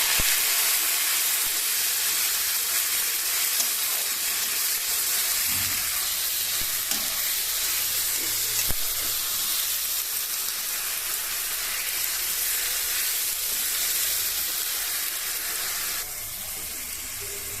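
Onions browning with spices in a frying pan, a close, steady hiss and sizzle with faint stirring clinks throughout, then slightly quieter near the end, no talking.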